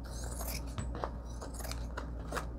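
Scissors snipping and crunching through paper in several quick, close cuts, with scraping between the snips.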